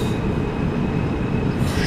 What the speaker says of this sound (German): So, jetzt geht es mir wieder auf die Hauptstrecke raus für uns.